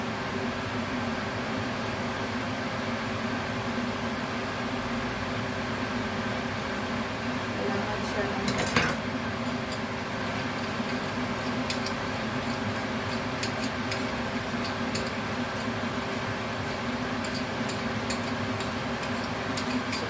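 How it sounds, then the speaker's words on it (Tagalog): A noisy kitchen exhaust fan runs continuously while oxtail soup is prepared, producing a steady broadband whir with faint ticking and one sharp knock partway through, and a person speaks over it. "maingay yung ano ko, exhaust fan"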